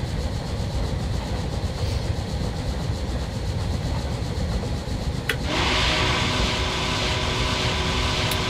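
Freight train on the Bessemer and Lake Erie railroad in Train Simulator 2018, a steady loud rumble of rolling wagons and engine drone throughout, brightening with a sharp hiss or squeal partway through.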